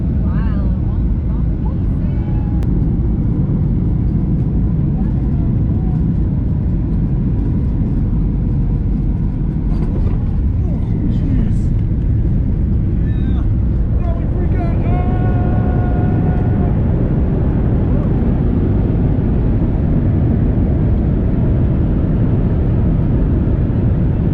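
Airplane cabin on descent toward Montana, a loud, steady low roar of engine and airflow that fills the whole stretch, with voices talking faintly underneath.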